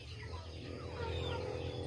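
Hen softly clucking on a farm with a dog nestled under her wings, a faint low murmuring cluck repeated quietly against light background noise.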